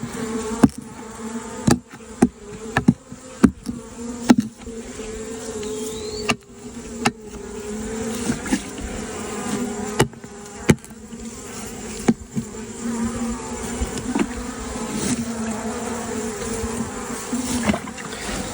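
A honey bee colony in an open hive infested with beetles, a close, dense buzzing drone with individual bees passing near, broken by sharp knocks and clicks of hive handling, no talk.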